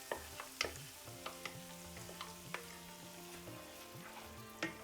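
A fine paste of onion, green chilies and cashew nuts sizzles softly in a pan, with steady quiet frying and scattered light clicks and scrapes of stirring.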